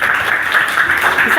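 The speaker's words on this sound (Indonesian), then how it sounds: "tepuk tangan anak-anak." A classroom of children applauding during a biology lesson, steady close dense clapping throughout the short burst with no pauses.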